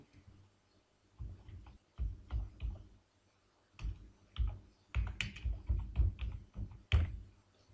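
Typing on a computer keyboard while searching in a Word document: quiet clusters of quick key clicks in bursts separated by short pauses, close and soft.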